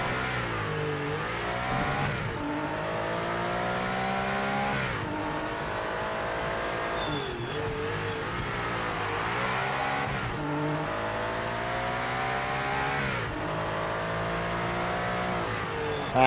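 A race car engine in the Project Motor Racing driving game during GT Icons racing, revving loudly and continuously with rising and falling pitch through repeated gear shifts, alone without talk.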